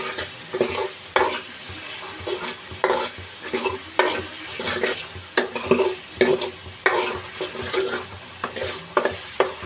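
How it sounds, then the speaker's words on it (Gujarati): Ginger garlic paste frying on a low flame in a pan for egg tikka masala, a soft continuous sizzle broken by repeated rhythmic scraping spoon strokes, close and moderately loud. "તો હવે આપણે આદુ લસણનો પેસ્ટ નખાઈ ગયો છે અંદર તો આપણે એને ઘડી હલાવી નાખશું।"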